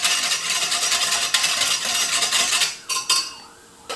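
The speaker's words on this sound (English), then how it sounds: "So I'm just going to stir that in here." Arrowroot is stirred into a tofu sauce in a pan, with steady scraping and clinking of a utensil against the pan over a sizzling hiss, ending in a few sharp knocks.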